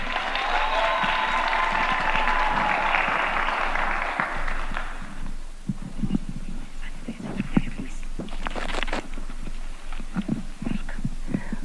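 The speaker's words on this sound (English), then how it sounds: "Let's give her a hand of applause." Audience applause at an official event where the President of Kenya commissions the Kisumu Shipyards, a dense burst of clapping that fades out after about four seconds, followed by scattered thumps and rustling at the venue.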